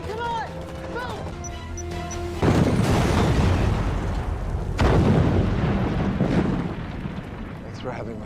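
Two heavy booming blasts from an explosion scene in the TV show Arrow, each a sudden loud roar that rumbles and crackles for a couple of seconds, following a stretch of raised, shouting voices.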